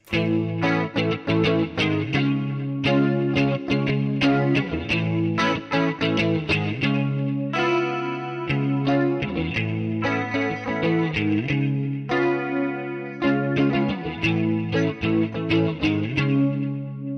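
A clean electric guitar through a Quad Cortex plays bright, shimmering 80s-style chords with a wide chorus effect, evenly compressed and rhythmic, with short gaps between phrases and no talking.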